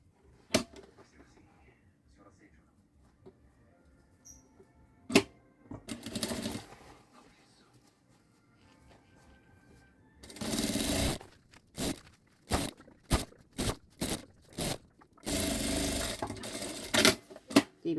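A sewing machine whirs in several short and longer bursts while stitching a zipper on a backpack, stopping and starting, with clicks and handling noises between runs.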